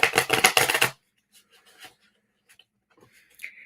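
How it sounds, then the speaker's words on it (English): Tarot cards are shuffled in a rapid, crisp riffling burst lasting about a second, followed by a few faint soft card handling sounds in a quiet room. "So I'm going to shuffle the cards again."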